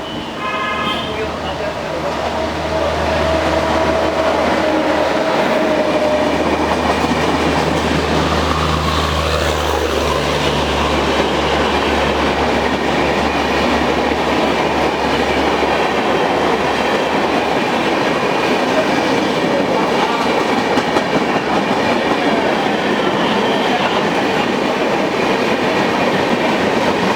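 The Rajdhani Express rolls along the rails with a loud, continuous rumble and rhythmic clatter heard from on board, a low hum fading early while the broadband roar holds steady for the whole span.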